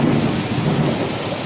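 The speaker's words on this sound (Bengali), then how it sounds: "প্রবল বর্ষণ হচ্ছে।" Heavy rain pours during a thunderstorm, a loud, dense roar of rainfall with a deep rumbling undertone, steady and unbroken across the short stretch, with no talking.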